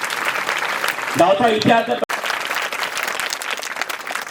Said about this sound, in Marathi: यांच्यासाठी सुद्धा जोरदार टाळ्या झाल्या पाहिजे